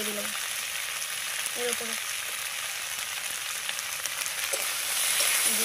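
Small fish with spring onions sauté in a pan in a village kitchen, giving a steady, close sizzle and crackle while someone speaks briefly over it.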